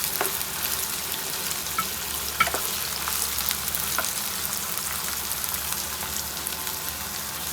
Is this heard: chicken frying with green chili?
yes